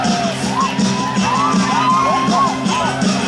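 A large crowd at an outdoor festival concert cheers and shouts loudly and steadily, with whoops and yells rising above the din.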